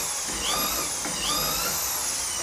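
Power drill boring holes through a doweling jig, a loud, continuous high whine that dips in pitch twice as the bit bites into the wood.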